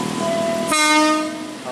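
KRL commuter train departing Tigaraksa station in the evening, a loud train horn blast under steady rail rumble, close by.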